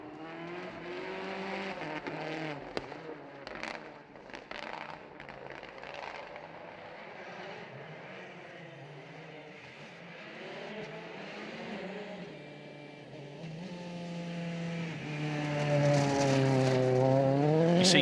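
A 4WD rally car races along a gravel stage at Rally South Canterbury, its engine rising and falling through gear changes before swelling into a loud, close, high-revving pass at the end.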